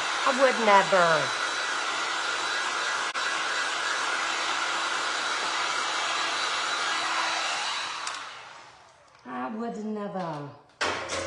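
Hair dryer blowing on resin art on a tin panel: a loud, steady whooshing whine that runs for about eight seconds, then cuts off, with a voice speaking briefly at the start and again after it stops.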